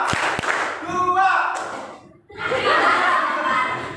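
A classroom of students claps on command in an Indonesian class, a couple of sharp claps near the start followed by a burst of group clapping later, with voices and light chuckling around them.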